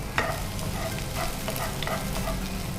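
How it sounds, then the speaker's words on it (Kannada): Finely chopped ginger and garlic fry in a pan with a steady, close sizzle, marked by repeated light stirring scrapes over the hiss. "ಇದು ಸ್ವಲ್ಪ ಫ್ರೈ ಆಗಬೇಕು."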